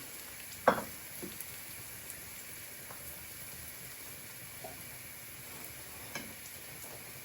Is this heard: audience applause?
no